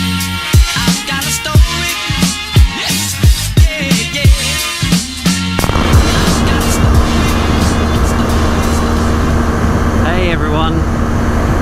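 A motorcycle riding along a road in a small convoy of bikes between Serbia and Hungary; a loud, continuous engine and wind roar fills the clip, with rhythmic thumping bursts early on before settling into a steady drone.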